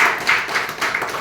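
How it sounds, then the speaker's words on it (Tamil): A short, steady patter of audience clapping at a telecalling training session, fairly close and moderately loud, with no one talking over it. "ஓகே, கைத்தட்டல் கொடுத்துருங்க."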